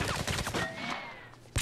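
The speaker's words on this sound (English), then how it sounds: "we may as well just shoot the crap out of them now" Gunfire in the video game 007: Blood Stone on PS3, a fast burst of several close, loud shots in the first half giving way to a quieter tail with a faint tone, then a sharp noise at the very end.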